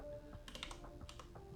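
Rapid keystrokes clatter on a computer keyboard, a short burst of about a dozen quiet, close clicks in uneven rhythm, no voices present.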